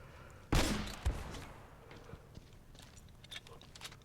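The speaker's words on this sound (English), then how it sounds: "I'm shooting all around, trying to trigger the last enemy that I know is somewhere up there" An M79 grenade launcher fires in Uncharted: Drake's Fortune, one loud close blast followed by a second thump, then faint scattered game noises.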